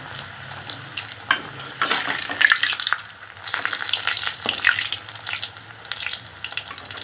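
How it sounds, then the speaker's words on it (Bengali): Green pea kachori deep-fry in a kadai of hot oil, giving a loud, continuous, crackling sizzle with bursts of bubbling and spatter, close up and without talk. "গরম তেল এই যে ভাজছি"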